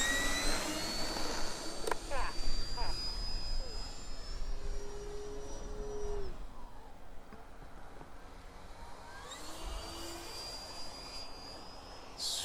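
A Turbo Timber Evolution model airplane's electric motor whines during take-off and landing runs, a rising and falling high-pitched tone passing near then fading, with wind and people talking nearby.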